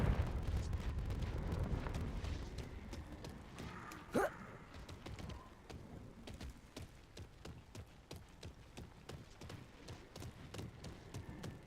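Confringo and Incendio spell blasts in Hogwarts Legacy come as a rumbling explosive burst, then a sharp crack, then a long string of rapid clattering impacts, all at moderate loudness.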